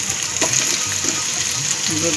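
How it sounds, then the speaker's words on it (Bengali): Chopped onion, later joined by tomato, sizzles steadily in a pan, a constant hiss broken by occasional scraping stirs, close by, with a voice speaking faintly underneath. "আচ্ছা, পেঁয়াজটা নেড়ে দিই, একটু ভাজা ভাজা হোক।"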